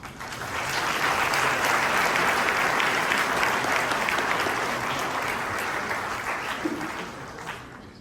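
An audience at an annual Holocaust remembrance ceremony applauds steadily for several seconds, a dense, even wash of many hands clapping that swells quickly and fades slightly at the end.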